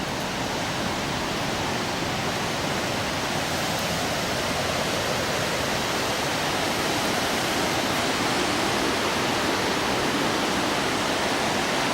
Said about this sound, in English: I'm going to show you the Falls of Dochart because there are quite a bit of water in them